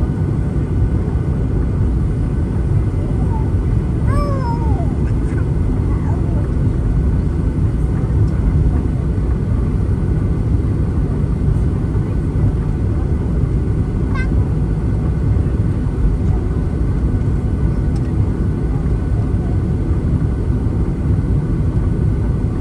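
Inside the cabin of a United Airlines EvoBlue Boeing 737-900ER taking off from Los Angeles LAX on an overcast day, a loud steady engine rumble fills the space with little change, a faint chime sounding briefly.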